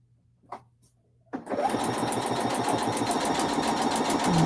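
A sewing machine stitching along a line of a foundation paper piecing block for quilting, starting after a brief pause with a couple of faint handling clicks, then running steadily and fairly loud with a rapid, even needle rhythm.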